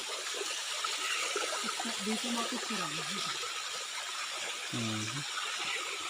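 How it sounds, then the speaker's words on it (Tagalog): Rushing water from a tall waterfall hisses in a constant broad roar, with a few brief voices calling out over it. "Ayan, ito guys yung talon."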